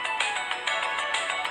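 A mom's cellphone ringing inside the video game Eat the World, a bright electronic ringtone pulsing in steady repeated bursts, loud and alone with no talk.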